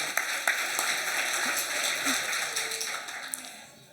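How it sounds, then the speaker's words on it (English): An audience at the American Manga Awards 2024 gives a short round of applause for Hiroko Yoda, a dense, even clatter of many hands that tapers off by the end. "please give a warm round of applause to Hiroko Yoda"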